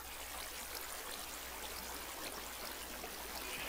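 Water flows steadily in Minecraft, a continuous hissing, trickling stream sound that stays even and fairly faint throughout, with no voices.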